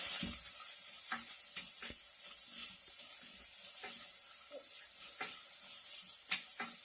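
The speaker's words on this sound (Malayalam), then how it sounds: "പച്ചമുളകും, അതിനുശേഷം നന്നായി വാട്ടുക." Chopped onions and green chillies sauté in a pan for egg kurma, giving a steady high sizzle broken by repeated light scraping and tapping as a spatula stirs, close and alone without talk.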